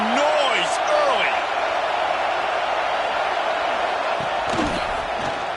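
A stadium crowd in the video game EA College Football 26 roars as a loud, continuous wash of noise, with brief slams and a commentator talking over it.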